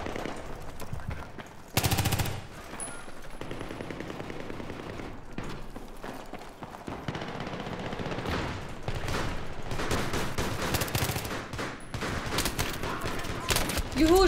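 Rapid automatic gunfire crackles through a close-quarters match of the shooter Battlefield 3 on the Ziba Tower map, with bursts of shots, a sharp loud blast near the start and steady firing throughout as someone talks over it.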